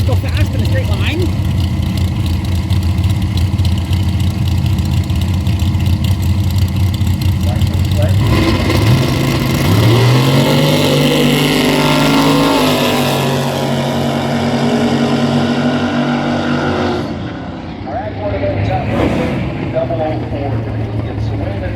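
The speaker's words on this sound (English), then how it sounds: "watch cars go fast in a straight line" Drag racing cars, at an event that also features a jet-powered truck, roar while accelerating down a straight track, a loud sustained engine sound that rises in pitch as the run builds, with crowd voices and talk mixed in.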